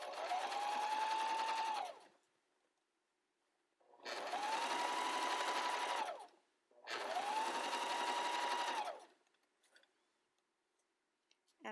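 A sewing machine stitches a fabric mask in three steady bursts of about two seconds each, close and clear, with short quiet pauses between runs.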